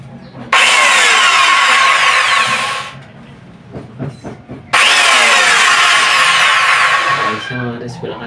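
A handheld power tool test-run with no blade fitted: two loud, sustained high-pitched motor whines, each spinning up then winding down, separated by a quieter gap with a voice speaking.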